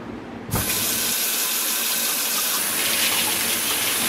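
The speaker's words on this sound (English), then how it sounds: "let's take these to the sink and we will rinse them off in cold water" Cold water from a kitchen sink tap gushes steadily and loudly after starting abruptly, running over sunflower seeds being rinsed; no talking.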